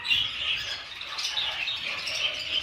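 Budgerigars chirp and twitter continuously in a breeding aviary, a dense, steady chatter of many birds close by with no pauses.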